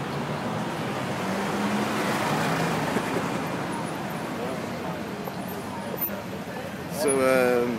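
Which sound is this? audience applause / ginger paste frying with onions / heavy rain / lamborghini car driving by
lamborghini car driving by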